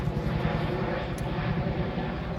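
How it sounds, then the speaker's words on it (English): A helicopter passes overhead, its engine and rotor making a steady, loud rumbling drone that fills the whole stretch with no pause. "It's a helicopter."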